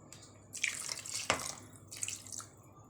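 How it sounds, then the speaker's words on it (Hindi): A cup of water is poured into soaked mung dal in a cooking pot. It comes through as close, splashy liquid bursts with a sharp drip-like hit in the middle and a shorter splash near the end. "ये मैंने इसका 1 कप पानी डाला है"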